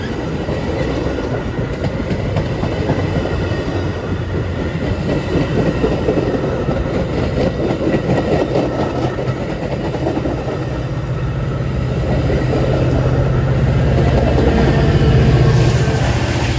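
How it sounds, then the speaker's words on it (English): A Metra reverse commuter train runs inbound toward Chicago along the BNSF line, passing close by with a steady, loud rumble and rhythmic wheel clatter that swells toward the end. "another of these inbound reverse commuter trains going into Chicago"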